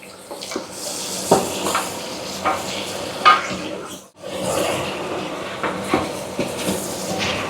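Garlic ginger paste fries over high heat in a pot for beef paya, giving a steady sizzle under repeated stirring scrapes and knocks, with a brief drop in sound midway.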